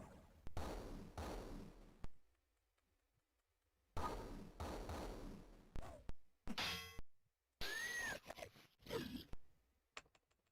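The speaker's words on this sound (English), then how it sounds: "moths sound weird in this game." Moth creatures in the Wizardry 7 video game make strange clanging, scraping and grunting effects in several bursts, each lasting a second or two, with short silent gaps between them.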